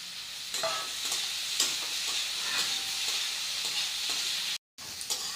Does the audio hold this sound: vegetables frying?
yes